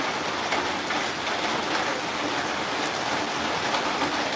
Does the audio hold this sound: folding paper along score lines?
no